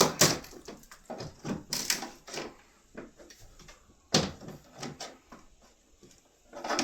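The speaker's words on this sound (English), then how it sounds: "put a chisel in behind, ease it forward, and then slowly work our way up" A chisel pries a wooden bead loose from a sash window, giving a series of irregular close creaks, knocks and sharp wooden cracks with quiet gaps between.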